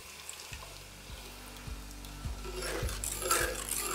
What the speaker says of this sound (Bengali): মেশানো হয়ে গেলে এর মধ্যে দিয়ে দিন টমেটো পিউরি।